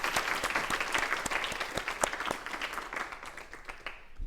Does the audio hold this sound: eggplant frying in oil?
no